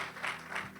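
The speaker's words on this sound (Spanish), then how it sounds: "quiero que recibamos con un fuerte aplauso a las personas que se van a conectar" A church congregation applauds in a brief, steady burst of clapping heard at moderate distance, with no talk over it.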